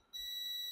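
A multimeter set to buzzer continuity range gives a single steady high-pitched beep that starts abruptly and holds, close and alone, while probing a capacitor to ground.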